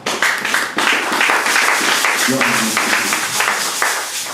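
A church congregation claps and cheers in praise, a dense, steady wash of applause across the whole stretch, with a brief tonal voice or instrument surfacing in the middle.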